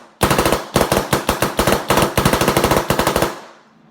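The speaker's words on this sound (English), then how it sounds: "The gun firing, we had no problems with it whatsoever on the field yesterday." A Shocker SFT paintball marker fires a long, rapid string of close, sharp pops in quick uneven bursts. A short break splits the string, and the last shot fades into a brief ringing tail.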